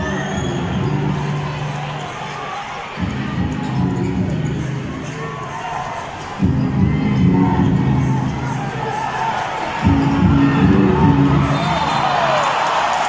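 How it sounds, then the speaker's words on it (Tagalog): Basketball arena crowd during a pro finals game, shouting and cheering in loud continuous waves that swell and surge in bursts, with scattered whoops and faint talk under the roar. "Grabe po yung hiyawan po dito."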